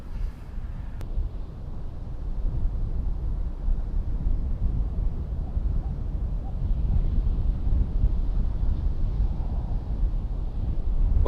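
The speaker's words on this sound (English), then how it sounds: "the wind is really whipping up now" Strong wind buffets the microphone on the Northumberland coast, a loud continuous low roar with gusting swells and a faint surf-like wash beneath, no voices.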